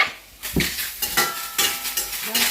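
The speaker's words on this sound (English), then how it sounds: "So you're frying it until the water is gone of the mushrooms, yeah?" Mushrooms frying in a pan to cook off their water, with a soft sizzle under repeated scrapes and clinks of a utensil stirring against the pan, close and fairly loud.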